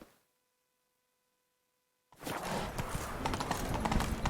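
Roach, Geralt's horse in The Witcher 3, trots with a steady rhythm of clip-clopping hooves that starts abruptly after a near-silent opening and runs loud and close to the end.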